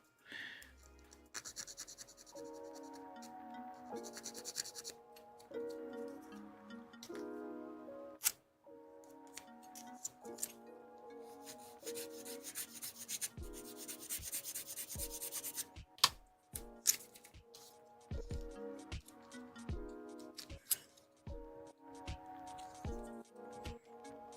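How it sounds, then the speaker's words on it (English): A plastic part from a 1/72 HG Bandai model kit is sanded in short, close scratchy strokes, broken up by clicks and handling taps, under quiet background music. "So, just sand this a little bit."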